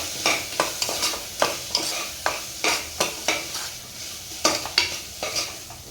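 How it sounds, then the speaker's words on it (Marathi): A spoon scrapes rhythmically through chana dal and potato in a hot masala, a dozen or so sharp strokes against the pan over a soft sizzle, with no talking. "त्यानंतर हे सर्व मसाल्यामध्ये छान मिक्स करून घ्यायचं आहे."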